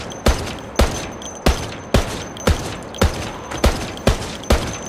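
Automatic gunfire from a weapon fed by 100-round drum magazines in Project Zomboid: a steady string of about ten evenly spaced, sharp close shots, each followed by a brief decaying tail.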